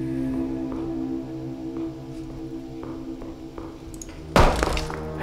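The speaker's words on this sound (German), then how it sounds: "diese scheiß Schüsse sind auch laut" A single loud, sharp gunshot bang from the video game Harvester of Dreams cuts in near the end over a steady droning game soundtrack with faint knocks.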